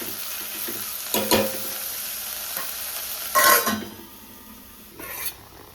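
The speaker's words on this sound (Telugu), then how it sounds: "కడిగి తెచ్చుకున్న రొయ్యలు వేసి మూత పెట్టి కొంచెం సేపు మగ్గనిద్దాం దీంట్లో ఈ ఆయిల్లో" Washed dried prawns hit hot oil with gongura in a pan, producing a continuous close sizzle with three louder bursts of stirring and scraping. There is no talk.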